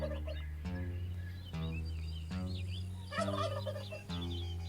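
Many chickens in the video game Fling Things and People making a repeated, layered clucking and gobbling chorus in regular bursts, steady and close throughout.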